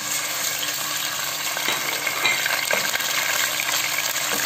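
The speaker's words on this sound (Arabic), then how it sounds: "نخلي حتى يذوب ويسخن الزيت، ندير اللحم" Meat fries in hot oil, a steady close sizzle and crackle with occasional small pops, no talking.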